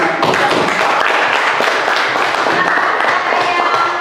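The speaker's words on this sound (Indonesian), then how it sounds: "Ya, mari kita beri aplaus." A class applauding after a group presentation, dense rapid hand claps from many students, close and steady throughout, with a voice faintly underneath.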